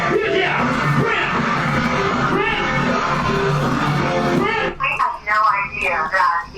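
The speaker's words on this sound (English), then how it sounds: "give him a big round of applause because he just insisted that I introduce Prince" A live audience at a Prince-related event roars with loud, sustained cheering, yells and whoops, and a brief round of applause mixed in; the crowd noise drops away near the end into scattered shouts.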